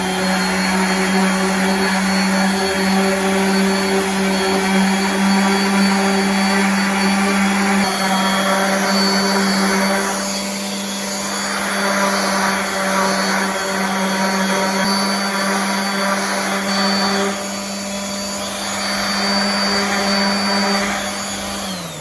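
Power sander grinds over the rough edges of wooden mountain cutouts for a Christmas table, a loud continuous whirring drone throughout with slight shifts in pitch and pressure, close by and uninterrupted.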